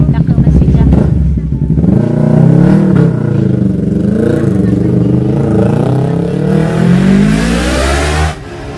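A motorcycle revs hard and speeds past close by, its engine note rising and falling over about eight seconds before cutting off sharply near the end, with a person talking over it.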